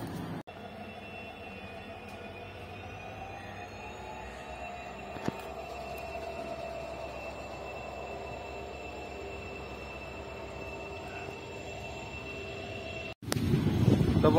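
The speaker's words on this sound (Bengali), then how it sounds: "এই ট্রেন নাম্বার হয়েছে 15769 লামডিং ইন্টারসিটি এক্সপ্রেস" The Lumding Intercity Express, train 15769, stands or creeps through Bongaigaon Junction with a steady low rumble and a thin, sustained wheel squeal. A louder burst of noise breaks in abruptly at the end.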